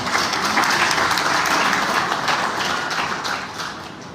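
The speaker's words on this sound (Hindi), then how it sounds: "जोरदार तालियों से हम भी उनका धन्यवाद करें" Sustained applause from a crowd at a goldsmith community event, a dense steady clatter of many hands clapping that eases off slightly toward the end.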